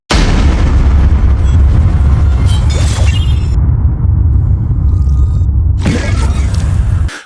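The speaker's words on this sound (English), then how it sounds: "together they bait the predator into triggering its own bomb" An alien predator's bomb exploding in an animated film: a loud, sustained roaring blast with shattering debris and rumble that dips briefly, surges again, then cuts off abruptly.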